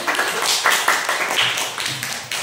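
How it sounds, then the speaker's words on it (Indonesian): Children in a sixth-grade mathematics classroom clap for a group in a short, uneven burst of nearby hand claps with some rhythmic, patterned beats, loud and a little scattered. "Tepuk tangan untuk kelompok aku."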